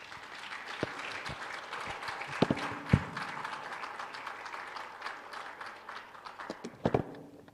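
Audience clapping at a book presentation, a fairly soft but sustained round of applause with a few sharper, louder claps standing out near the start and end.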